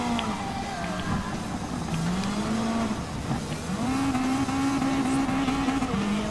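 Rally car engines racing in Gran Turismo Sport Gr.B Rallycross, a steady droning engine tone that rises and falls in pitch as the cars accelerate, continuous and fairly loud throughout.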